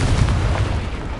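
A blasting spell goes off in Hogwarts Legacy: a short, loud, booming explosion with a deep rumbling body and no talk.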